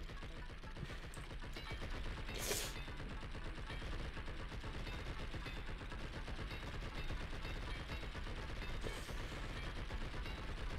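Continuous rapid automatic gunfire from unlimited-ammo weapons in the video game Blood and Bacon, a dense, steady stream of shots running loud throughout with no talking.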